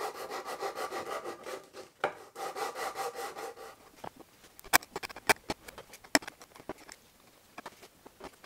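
Wood for a one-handed guitar build being worked by hand, with several seconds of brisk, even abrasive strokes followed by quieter handling and scattered sharp knocks and taps, all close by and without speech.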